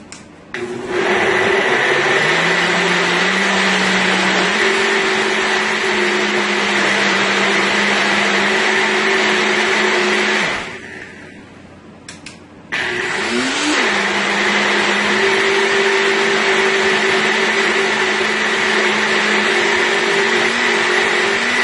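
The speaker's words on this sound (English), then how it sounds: "I'm going to place my lid on to my blender" A blender blending a pomegranate berry smoothie with coconut water whirs loudly and steadily, stops for about two seconds, then starts up again and runs on at a constant high-pitched drone.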